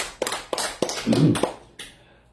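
A church congregation claps hands in a short rhythmic run of about six distinct, close, crisp claps, with a brief voice overlapping near the middle before the claps trail into quiet.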